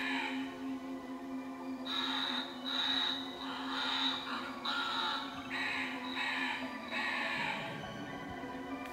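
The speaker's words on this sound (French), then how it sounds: "Les corbeaux." Crow cawing sound effect from a Playmobil Scooby-Doo toy coffin, a series of repeated rhythmic caws, electronic and fairly close, over a steady hum.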